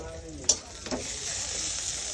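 Gourd and potato vegetables fry in a kadai with a faint, steady sizzle, broken by a couple of brief clatters as they are stirred. No one speaks.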